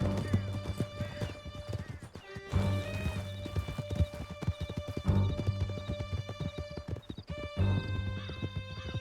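Horses gallop in Red Dead Redemption 2, a steady close drumming of hooves with a whinny, under shouted voices and a sustained musical score.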